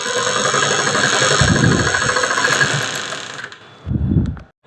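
A sewing machine runs steadily as it stitches the shoulder seam of a kurti, its close motor whirring and droning for about three seconds before it stops. A short thump and whir follow, and no one speaks.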